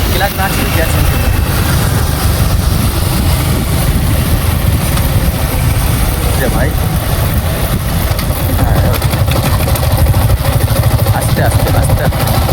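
A motorcycle rides at night with two riders aboard and no helmets, its engine holding a steady, loud drone mixed with rushing wind the whole way, while a rider talks briefly over it.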